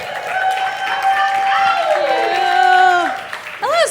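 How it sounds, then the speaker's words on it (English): A comedy club crowd at Sk8bar cheers with high whoops and shouts over lighter clapping, close and lively, with a voice cutting in at the end. "let's put a round of applause together for Lillian"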